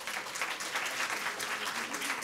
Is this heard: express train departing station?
no